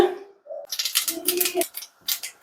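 Mustard seeds splutter in hot coconut oil in short bursts of rapid crackling pops close up, with a voice speaking briefly before and between them.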